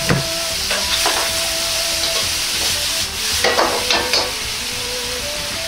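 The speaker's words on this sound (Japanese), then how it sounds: "少量の油を残してチンゲン菜を炒めます。" Bok choy stir-frying in a little oil in a wok, a steady close sizzle with occasional scraping stirs and clanks, no voices over it.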